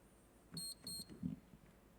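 Quiz buzzers at a corporate quiz final give a few short, faint electronic beeps in quick succession.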